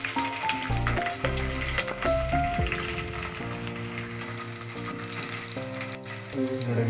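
Cut potatoes fry with curry leaves in a pan, giving a loud, continuous, close sizzle with some stirring under background music.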